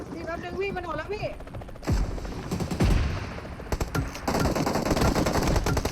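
Rapid bursts of automatic gunfire in PUBG Mobile, sharp close shots in clusters and sustained strings, with someone talking in Thai before the shooting starts.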